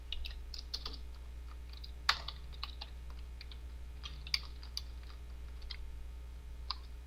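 Someone types code on a computer keyboard in irregular runs of crisp, close key clicks, with a few sharper taps standing out over a quiet background hum and no voices.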